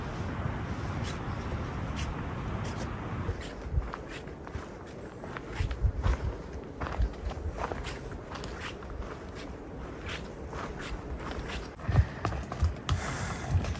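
Footsteps crunch steadily up a zigzagging hill trail in the Wallowa-Whitman National Forest, an uneven close tread over soft wind with occasional sharper scuffs.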